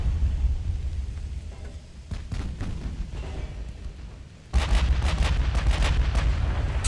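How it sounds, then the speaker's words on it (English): Naval gun salvo in the Ultimate Admiral: Dreadnoughts video game, a deep rumbling barrage of heavy artillery booms that swells abruptly and rolls on in layered thunder-like blasts. "Full salvo on the Majestic."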